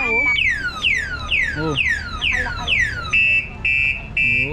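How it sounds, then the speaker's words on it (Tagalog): An e-bike's anti-theft alarm blares up close, first as a run of rapid downward-sweeping whoops and then as a few loud, steady beeps. Short exclamations are heard over the siren. "Naka anti-theft alarm, eh, oh."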